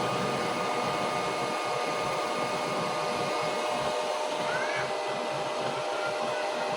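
A stove burning waste oil and used cooking oil roars steadily as it starts, a loud, continuous broadband rush like a blower or burner flame, unbroken throughout, with no speech over it.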